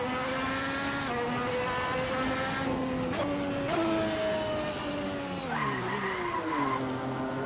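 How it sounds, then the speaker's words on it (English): Race car in a racing video game sliding and crashing into a barrier at the Ascari circuit, a sustained engine whine shifting pitch with tire skidding, loud and continuous throughout. "that's a crash"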